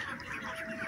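Ducks raised indoors in a dry shed on a modern integrated farm quack and chatter in a steady, dense flock murmur, moderately loud and continuous with no talk.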